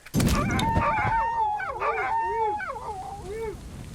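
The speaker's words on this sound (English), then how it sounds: "Fighting 3 dogs when all I have is a board, that could have been definitely death." Dogs attacking in the survival horror game Darkwood, a close run of snarling, whining howls with wavering pitch that fill the whole stretch.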